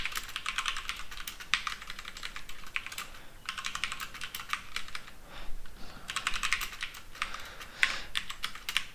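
Keyboard typing while Java code is written out, a fast, steady patter of close key clicks in bursts with short pauses between, alone and without voices.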